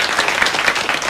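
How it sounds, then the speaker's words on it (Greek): An audience claps steadily in continuous applause, a dense, even patter of many hands filling the whole stretch without a break. "Έλα, χειροκρότα, χειροκρότα."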